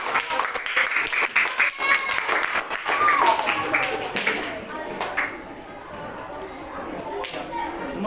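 A classroom breaks into applause for a student, a dense burst of clapping mixed with children's voices that thins out and fades toward the end.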